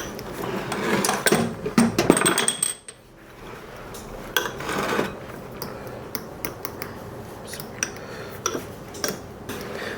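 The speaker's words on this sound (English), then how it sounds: "let's just mash those cranberries out a little bit" A spoon mashes cranberries in a small bowl, giving loud scraping and clinking against the dish early on, then softer intermittent squishing taps near the mic.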